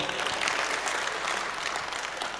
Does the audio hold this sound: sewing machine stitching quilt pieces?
no